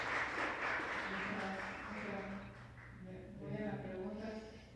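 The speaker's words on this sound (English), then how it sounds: "Let's give him a round of applause." Audience applause following a conference talk on day three of an event, a broad steady wash of clapping that fades slightly midway, with a voice speaking faintly underneath.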